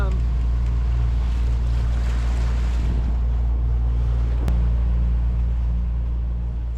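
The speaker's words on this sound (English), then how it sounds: "sometimes you just got to use the motor" A sailboat motoring at sea under engine power on the passage to Antigua, with a steady low engine drone and broad wind and water wash running continuously throughout, one brief sharp knock near the end.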